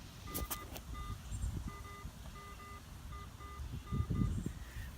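A metal detector sounds repeated short electronic beeps and tones as it rings up a coin target at a field hunting site, the tones pulsing in a steady pattern over rustling handling noise and low outdoor rumble.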